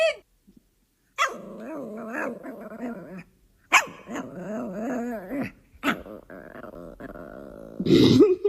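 A dog barks and growls in several loud, close bursts with pauses between them, and a person's voice cries out near the end.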